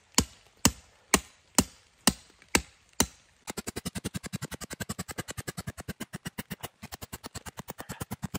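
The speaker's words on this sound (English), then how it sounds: "right now we're using an 24-inch earth anchor. I'm gonna drive that into the ground all the way" A 24-inch earth anchor is hammered into the ground outdoors with seven slow, sharp, loud metallic strikes, then a fast, steady run of lighter rapid blows keeps driving it, with no talking.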